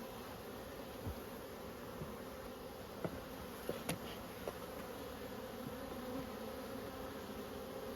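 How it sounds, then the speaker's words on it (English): Honey bees hum steadily around an opened four-frame nuc hive during a mid-winter inspection, a faint continuous buzz with a few soft knocks from frames being handled. "The bee's a bit flighty, a bit"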